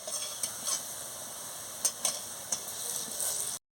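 Small shrimp fritters deep frying in hot oil give a steady, soft sizzling hiss, broken by a few sharp clinks and scrapes of a utensil near the pan.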